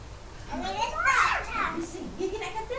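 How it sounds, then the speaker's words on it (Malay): Kindergarten children playing in the background, their high-pitched chatter and shouts rising and falling at moderate distance, faint but continuous. "Tak apa ya, bising sikit budak-budak ya."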